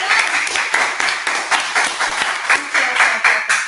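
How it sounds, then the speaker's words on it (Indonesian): Audience at a live event clapping on cue, a loud, close round of applause with a faintly pulsing, uneven rhythm as hands beat together throughout. "Tepuk tangan ya."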